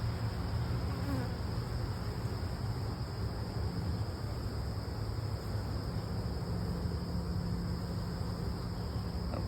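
Honeybees crawl over a brood frame lifted during a hive inspection, giving a continuous, even buzzing drone close by and without any voices.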